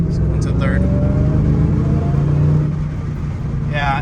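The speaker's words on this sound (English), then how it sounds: "I want to hear that supercharger whine" A supercharged Ford Mustang Terminator on Borla Stinger exhausts pulls hard under acceleration, its loud, steady engine drone joined by a faint rising supercharger whine, with a few brief bursts of talk over it.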